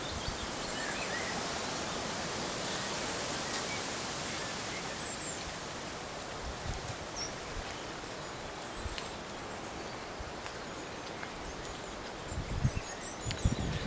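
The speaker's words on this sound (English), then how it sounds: "get the chance to actually hear the water that's falling" Constant broad rush of water flowing down a stream bed, steady and enveloping, with a few faint bird chirps and rustles.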